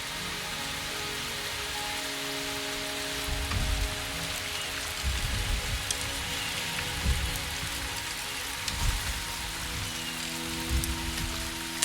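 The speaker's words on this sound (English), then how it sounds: "The rain is subsiding, and the sky will soon clear." Steady rain pours in the video game Wuthering Waves, a constant wash of drops hitting surfaces with low rumbling swells rising every few seconds, no voices present.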